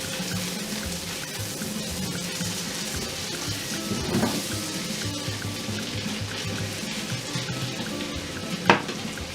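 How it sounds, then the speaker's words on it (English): King prawns sizzle and fry in a pan with garlic, a steady close crackling hiss throughout, with a soft stir or utensil clink near the middle and a sharper knock near the end. "And then I'll add the prawns, my king prawns."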